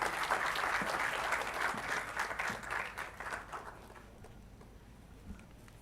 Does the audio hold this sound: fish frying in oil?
no